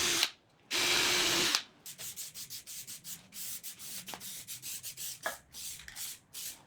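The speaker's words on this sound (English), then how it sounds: "I'll drill those out now" A drill bores holes in a plywood chair seat in short bursts, a long steady run followed by a series of rapid stop-start pulses, close and fairly loud with no talking.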